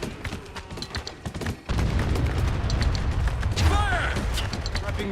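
A mortar fires in the war video game Spec Ops: The Line, heavy booming blasts and rumbling impacts among scattered gunfire, loud and dense, with shouting voices mixed in.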